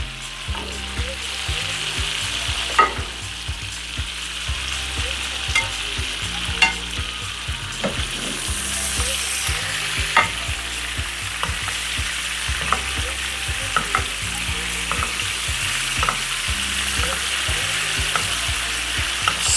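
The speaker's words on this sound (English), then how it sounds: "Let's see if we can do a little basting here." Steak sizzles steadily in a pan while being basted with melting garlic, a continuous bright frying hiss broken by repeated clinks and scrapes of a spoon against the pan, with a brief louder surge of spitting midway.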